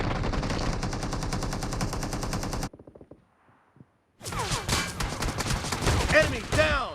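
Shotgun gunfire in the mobile battle royale game BGMI, heard as rapid repeated shots in a loud burst, a brief near-silent gap, then more chaotic in-game action sounds.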